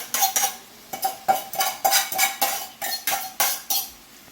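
A spoon clinks and scrapes rhythmically against a pot while stirring sweet potato and callaloo, about a dozen evenly spaced strokes, close and distinct with no talking.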